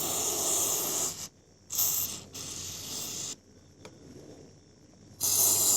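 Grease gun forcing lithium grease into a log splitter bearing, heard as bursts of squeaky, ratcheting mechanical pumping separated by brief quiet gaps, close and fairly loud.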